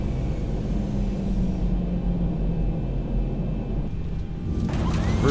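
A Boeing 737-700 in the X-Plane 11 flight simulator landing with thrust reversers deployed, a loud, steady low roar and rumble that holds constant, then shifts near the end as it slows.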